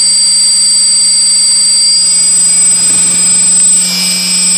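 A maglev hover disk's motor spins at speed, giving a steady high-pitched whine with sustained tonal lines and a low hum underneath, loud and continuous throughout with no talking.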